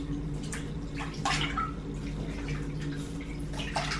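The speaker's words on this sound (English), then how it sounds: "So I'm gonna give this a little stir, because you're supposed to." Towels being stirred in a bathtub full of brown water while soaking to strip them, giving soft sloshing and splashing with a few drips, close and quiet with no talking.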